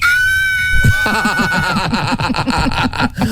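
A person's scream-like vocal sound in the night, imitating sleep screaming: a sustained high tone breaking into rapid rhythmic, wavering yelps, loud and close for about three seconds.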